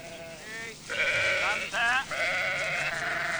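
Several sheep bleating close by near a farm pen, a few drawn-out wavering calls overlapping one another, clear and fairly loud.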